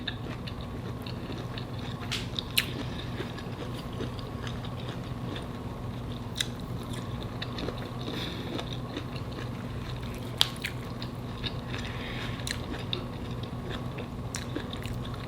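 Someone chewing steamed broccoli seasoned with salt and pepper, close to the mic: quiet, moist mastication with occasional sharp crunchy clicks scattered over a low steady hum, with no speech.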